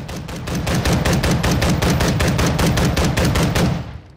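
Knights SR-25 rifle firing in Call of Duty Modern Warfare II: a rapid, evenly spaced string of loud close shots, about fourteen in under four seconds, ending in a short fading tail.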